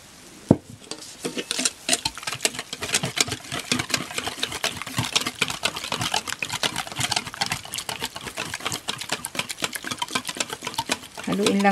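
Two eggs being whisked into crepe batter for a mille crepe cake, giving a rapid, steady clatter of a whisk against a bowl. It is close and continuous for the whole stretch, with no talking.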